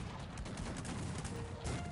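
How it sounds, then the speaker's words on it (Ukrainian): Cannon fire in a Cossacks 3 ranked team battle makes dense, faint volleys of booming shots that blur into a continuous distant rumble. "Ну я гарматами як зробив постріл і відправив, щоб вони їхали."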